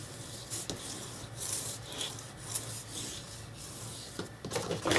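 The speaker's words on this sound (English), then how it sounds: "I'm going to just burnish that from the back side here." Paper being burnished down from the back side for a handmade book page, a quiet, continuous rubbing and scratching with uneven strokes, close and faint, with no voices.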